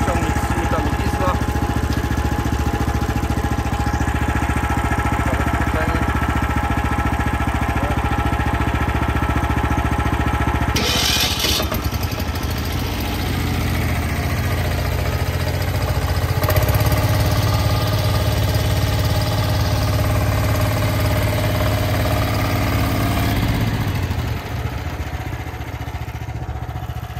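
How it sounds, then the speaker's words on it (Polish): A Motor-Sich Ukrainian single-axle walk-behind tractor with a diesel engine runs at a steady, continuous, fairly loud chug, close by throughout, with a slight shift in tone partway through. "Teraz dla porównania uruchomimy ciągnik z silnikami diesla."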